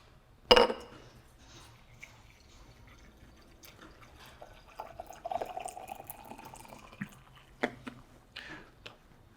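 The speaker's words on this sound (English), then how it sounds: "we can pour into a nice carafe" Coffee pours steadily from a French press into a glass carafe after a sharp clink at the start, with a few faint clinks and drips toward the end.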